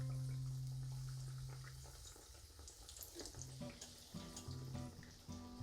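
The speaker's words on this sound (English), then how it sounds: "As you can see, they are frying beautifully." Steady watery hiss and crackle of Oreos deep frying in hot oil, with a low hum early on and some clinking sounds toward the end.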